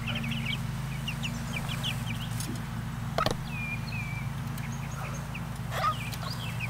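Chicks peep in an outdoor brooder made from a converted toddler play yard, scattered high calls over a constant low mechanical hum, with a couple of louder knocks.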